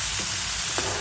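Tomato and onion sautéing in oil in a pan, a steady soft sizzle broken by a couple of quick spoon strokes, close by and without speech.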